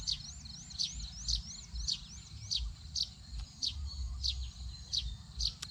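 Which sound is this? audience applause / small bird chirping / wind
small bird chirping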